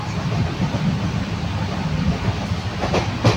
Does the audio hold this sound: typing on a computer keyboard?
no